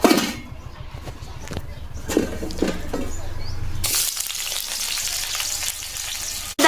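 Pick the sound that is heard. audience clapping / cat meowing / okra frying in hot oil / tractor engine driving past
okra frying in hot oil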